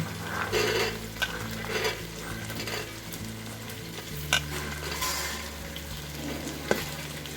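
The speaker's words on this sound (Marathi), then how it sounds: "सगळे असे एकत्रित त्या परतून घ्यायच्या असतात चांगले" Vegetables with drumsticks and beans sautéed together in a pan, a continuous close sizzle broken by occasional spoon scrapes and a few sharper taps against the pan.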